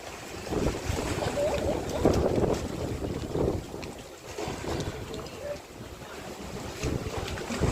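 Strong typhoon winds gust near the water, roaring and buffeting the microphone in surging waves, with a background wash of water and surf; brief voices are faintly audible beneath it.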